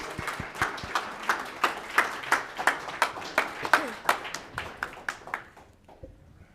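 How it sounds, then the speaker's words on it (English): A live audience at a Power Network Group event claps in a steady, rhythmic beat, evenly spaced sharp claps that slow and fade out near the end. "All right, another round of applause, guys."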